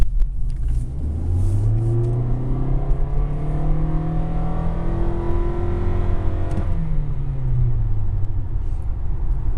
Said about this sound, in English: I'll do a little acceleration for you.